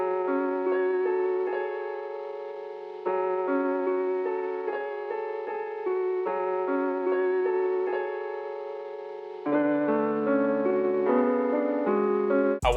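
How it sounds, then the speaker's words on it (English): A piano patch from the Scorch VST plays a simple, slow chord progression in a dark trap beat, with sustained chords changing every few seconds and a lower register in the final stretch. "I added a piano that I found in the Scorch VST with a simple progression that sounds like this."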